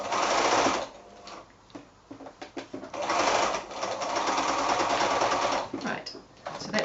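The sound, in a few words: sewing machine stitching up a hole in a cloth book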